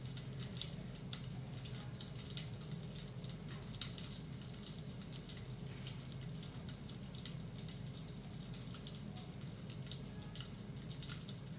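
Water drips onto hot coals, producing a soft, continuous crackling hiss with scattered faint ticks and drips, steady and quiet throughout without talk.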